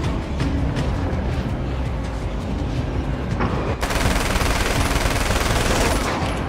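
Rapid gunfire and booming shots in the video game Alan Wake's American Nightmare, loud dense bursts that intensify into a sustained barrage partway through.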